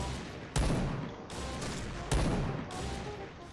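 Rifle shots from a Barrett sniper rifle in the shooting game Point Blank: three loud, heavy blasts roughly a second and a half apart, each trailing into a long echoing tail.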